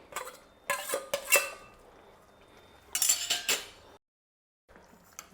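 A large spoon scrapes through roasted semolina upma with vegetables in a kadai. Two close, clear bursts of gritty stirring strokes come with a short lull between them, and no voices.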